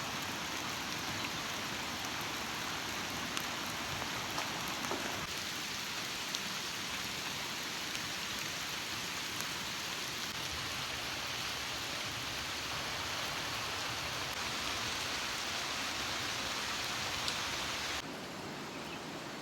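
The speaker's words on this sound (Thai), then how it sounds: "ฝนตกหนัก" Heavy rain pours down in the rural Laos countryside, a dense, unbroken roar of hiss and patter that holds steady for nearly twenty seconds and dips slightly at the very end, with no voices.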